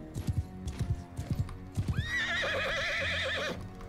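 Horse hooves clip-clopping in the video game Bannerlord, a quick irregular series of close hoof strikes followed by a loud wavering whinny that dominates the last second and a half, no talking.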